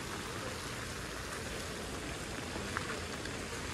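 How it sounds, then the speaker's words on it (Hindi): Nonstop rain falls in a dense, constant hiss over a main highway in a flood-prone area, steady and even throughout, with no other sounds standing out. "देख सकते हैं बारिश नॉन स्टॉप"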